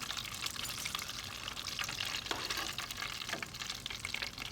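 Continuous bubbling crackle of mushroom and sweet pea arancini deep frying in hot oil, steady and close, with scattered pops and no voices.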